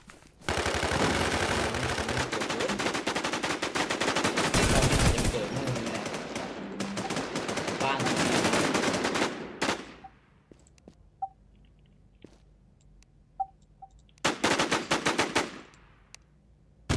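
Rapid automatic gunfire fills the first ten seconds, loud and sustained, in the online survival shooter Infestation, followed by a quieter pause with a few scattered shots and then another short burst.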